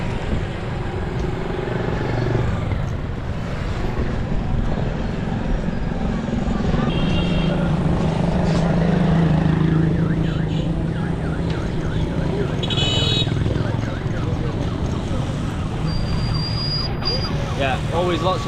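Busy traffic rolls through a rural village in Pakistan, with car horns beeping now and then over a steady engine rumble and road noise, and voices heard faintly in places.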